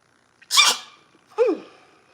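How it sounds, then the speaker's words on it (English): A person sneezes twice in quick succession, a sharp close burst followed about a second later by a second, softer sneeze with a falling squeaky tail, with no talk around it. "I'm gonna sneeze"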